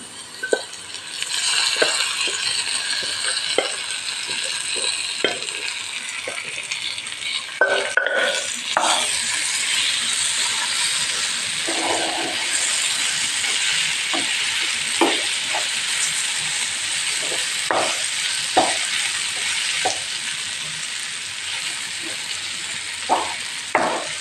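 Cooked liver sizzles and fries in a pan with spices, a continuous close crackle punctuated by repeated clinks and scrapes of a spoon stirring against the pan.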